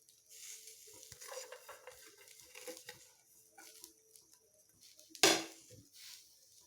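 Small chopped okra pieces land on a tawa heated over a high gas flame. Soft sizzling comes with scattered clatters and scrapes of a utensil, and one sharp, louder clank stands out near the end.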